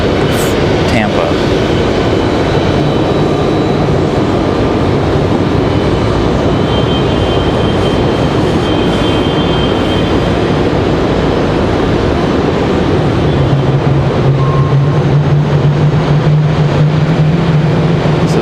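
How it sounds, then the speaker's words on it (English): A CRJ regional jet's engines spool up at Raleigh-Durham International Airport, a loud continuous roar with a low whine rising near the end. Distant talk sits in the background. "you can hear the engines getting ready to start for the CRJ"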